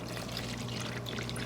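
Water poured into a dough container while making poolish baguettes, a soft continuous splashing trickle that is fairly quiet and alone.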